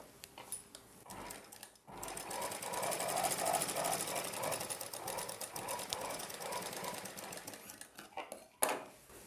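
Sewing machine stitching two blouse pieces together, a steady rapid mechanical chatter running loud and close for several seconds before stopping, with a clunk at the end.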